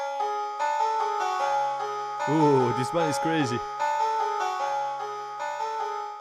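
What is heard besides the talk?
piano preset melody in music software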